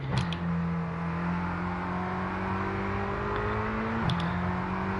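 A supercar engine in the F1 22 racing game hums at a steady, slowly rising pitch, then drops sharply in a quick downshift near the end, fairly quiet with no talking.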